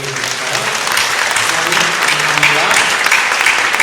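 Church congregation applauding during a youth praise and devotion service, a thick, sustained roar of clapping from a large crowd that swells slightly and continues for nearly four seconds, with a faint voice underneath.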